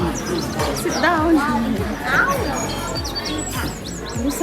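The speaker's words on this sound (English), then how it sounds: "There's a bird." A bird chirps with small repeated tweets near a hotel suite's secret garden, faint under ongoing conversation and other room noise.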